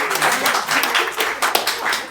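A live improv comedy audience breaks into applause, a dense wash of many hands clapping steadily and fairly loud throughout, with a few sharper claps and cheers poking out near the middle.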